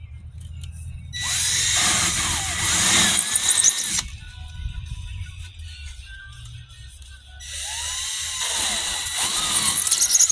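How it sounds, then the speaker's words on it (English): A cheap, wobbly hole saw on a drill bores holes for a homemade bottle paint carrying case, whining and squealing in two long, loud close-up runs separated by a quieter idle stretch. "I will say this is about the cheapest hole saw I could find"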